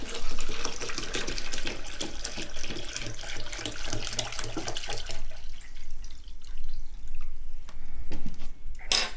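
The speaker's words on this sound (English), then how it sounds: "I water my plants." Water pouring from a can or hose onto the soil of potted amaryllis bulbs, a steady close splashing and trickling for most of the stretch before thinning to softer drips, with no voices.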